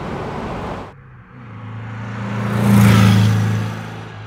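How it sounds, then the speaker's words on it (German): A 1962 Porsche 356 cabriolet with a 1600 cc four-cylinder engine drones and builds in a tunnel, the note swelling to a louder resonant peak and then fading slightly, heard steadily from on board. "Jetzt hört man auch im Tunnel den Sound."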